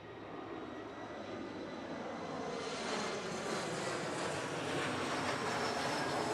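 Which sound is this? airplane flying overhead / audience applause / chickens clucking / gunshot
airplane flying overhead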